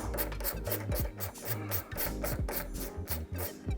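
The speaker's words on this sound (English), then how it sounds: "So we'll take this top bolt off." Bolt being turned out of the top of a Retigo combi oven door, a rapid repeated rasping, ratcheting scrape in quick strokes, close and fairly quiet with a faint whine.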